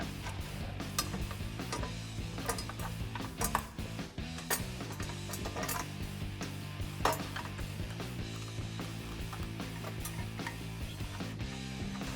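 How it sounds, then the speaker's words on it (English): A socket ratchet tightening 13mm bolts on the exhaust brace of a 2016-2023 Camaro SS, with repeated light clicking strokes over low background hum for several seconds. "take our 13mm socket to tighten these bolts down"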